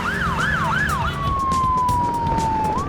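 A loud emergency motorcycle siren, a quick rising-and-falling wail that shifts into a long steady drawn-out tone, close by with road noise beneath.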